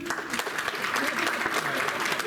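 Brief burst of audience clapping at a distinguished alumni awards luncheon, dense and steady for a couple of seconds with faint voices underneath.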